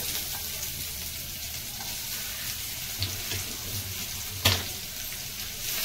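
Peppercorns, cumin, ginger pieces and chopped onion frying in a pan, a steady soft sizzle with a few sharp clinks and scrapes of a spoon stirring, close and unaccompanied by talk.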